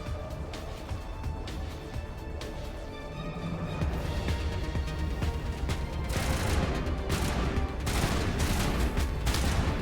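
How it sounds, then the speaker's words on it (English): Sustained rapid gunfire in the Mass Effect video game, dense overlapping bursts building louder and more intense toward the end. "we're under fire!"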